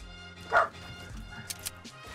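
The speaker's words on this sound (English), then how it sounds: "Whose dog is that?" A single short dog bark rings out near the middle amid game audio and background sounds during a Fortnite Battle Royale session, brief and moderately loud.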